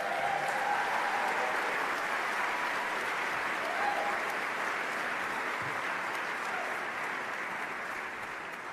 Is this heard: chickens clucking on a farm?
no